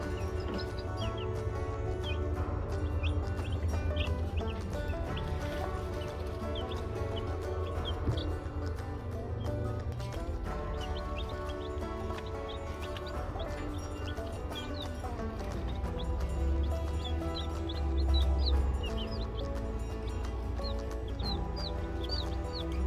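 A brooder of baby chicks from an egg-laying flock cheeps continuously, with many high, thin peeps overlapping over a steady low background hum, close and fairly constant throughout.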